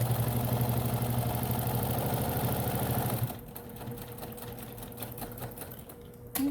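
Sewing machine stitching a bag seam, a fast steady whirring hum for about three seconds, then stopping, leaving faint handling noises and a quiet room.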